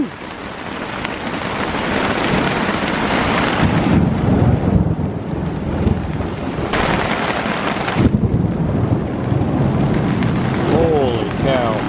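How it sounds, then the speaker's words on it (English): Heavy thunder rumbles and wind buffets the microphone during a rainstorm on a forest trail, with broad roaring surges that rise and fall continuously, close and loud throughout. "Some serious thunder and lightning going on out there."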